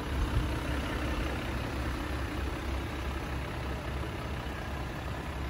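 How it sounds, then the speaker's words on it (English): A diesel engine in a custom Jeep JLUR 4x4 idles with a steady low, rough rumble, fairly faint and continuous without talk. "Yeah, you can hear it's a diesel."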